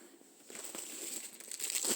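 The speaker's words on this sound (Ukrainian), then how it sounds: "Упаковка, бачите, все йде картон, бумажка, папірчик верніше." Paper and cardboard packaging crinkles and rustles as hands handle it, a continuous close crackling that grows louder toward the end.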